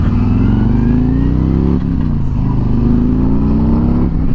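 A 2020 Harley-Davidson Street Glide Special rumbles loud and close while being ridden, its engine note rising and falling through gear changes in a steady, throbbing drone.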